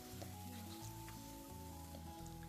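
Brinjal sautéing in a pan with salt for eggplant thokku gives a steady, close sizzle and crackle with faint stirring, no voices.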